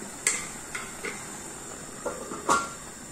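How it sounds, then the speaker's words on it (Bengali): A metal lid going onto a cooking pot of curry: a few separate light clinks and scrapes spread over a few seconds, the sharpest knock near the end, over a faint steady hiss. "তো তরকারিটা আমি ঢাকনা দিয়ে ঢেকে দেব।"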